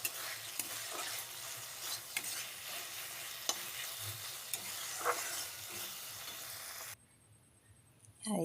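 Chhuti vegetable frying in a pan in a home kitchen, a steady oily sizzle with occasional scrapes of a stirring spoon, close and continuous before it cuts out near the end.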